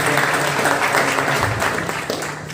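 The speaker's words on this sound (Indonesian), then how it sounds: "Tepuk tangan dulu dong untuk kita semua." An audience at a student organisation talk show at a high school claps together in a loud, sustained round of applause that tapers slightly toward the end.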